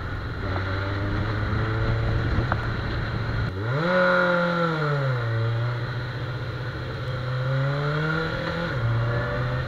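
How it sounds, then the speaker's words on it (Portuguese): An old Suzuki GSX 750 F motorcycle engine roars steadily out on a test ride, loud and close. A deep, throbbing note rises sharply as the throttle opens, then falls back and holds, with further revs and shifts and no voices. "esse ronco de Suzuki que, cara, essas 750 antigas, tem um motor com um ronco muito legal"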